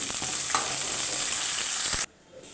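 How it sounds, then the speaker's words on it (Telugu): Curry leaves crackle and sizzle in hot oil as a tempering for pappu charu, a steady close hiss with a few sharp pops, cutting off abruptly near the end to near quiet. "కరివేపాకు కూడా బాగా వేగనివ్వాలి."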